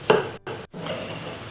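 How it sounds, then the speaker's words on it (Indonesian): Shallots, red chili and shrimp paste are pounded and ground in a stone mortar, heard as a sharp knock followed by rough, scraping grinding strokes broken by two brief pauses, close and fairly loud. "Kemudian diulek hingga halus."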